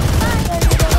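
A sniper rifle report in a Valorant match, a brief dense crack and rumble of game gunfire heard under ongoing team voice chat.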